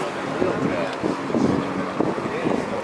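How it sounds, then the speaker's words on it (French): Wind buffets the microphone at an outdoor car meet full of Porsches, a steady rough low rumble with gusty swells across the whole clip, while someone talks faintly underneath. "Ah le vent, j'aime pas le vent."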